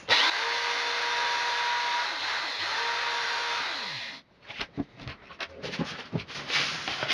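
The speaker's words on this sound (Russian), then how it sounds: "Отрезали и шлифуем теперь." A power tool whines steadily for about four seconds while grinding a cut metal part for a car thermostat repair, then stops and gives way to clattering handling noises and short bursts.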